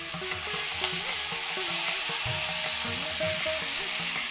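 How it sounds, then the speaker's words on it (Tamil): Tamarind extract poured into hot chilli oil hisses and sizzles steadily in the pan, a loud continuous frying crackle with clinking from stirring and no voices. "இந்த புளிக்கரைசல் இதை விட்டுடலாம்"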